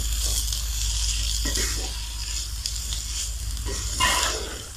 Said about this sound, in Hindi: तीन से 4 मिनट जस्ट आप इसको सौते कर लें।